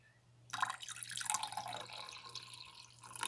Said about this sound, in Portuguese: eu vou pegar o extrato de repolho roxo, que tá aqui nessa jarra, e vou colocar um pouquinho em cada copo